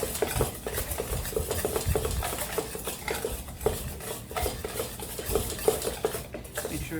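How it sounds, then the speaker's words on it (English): Sugar and Bisquick, the dry ingredients for a Southern-style blueberry cobbler, are stirred together in a bowl, with a steady run of soft utensil scrapes and clinks close by and no talking. "We're going to mix up all of our dry ingredients"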